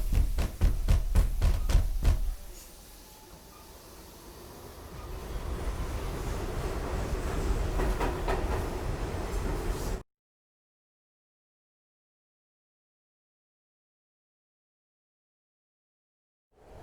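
Rhythmic metallic clunks give way to a steady rumbling roar of a subway train moving along in a video game (Silent Hill 3), which cuts off abruptly into silence.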